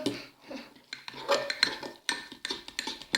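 Utensil scraping and clinking around a bowl as a homemade toothpaste mixture is stirred, a close, irregular series of scrapes and taps with brief pauses, no talking.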